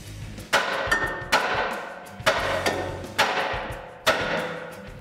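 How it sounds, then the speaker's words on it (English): A hammer strikes a Toyota Tacoma tie rod five times in an uneven rhythm, each sharp tap ringing briefly before the next. "give that a tap with the hammer to release it."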